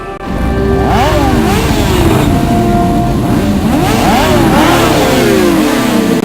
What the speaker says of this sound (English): The engines are revving and the starting flag has dropped.